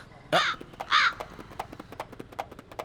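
Crows give two loud, close caws in quick succession, followed by a steady series of light, rhythmic clopping taps.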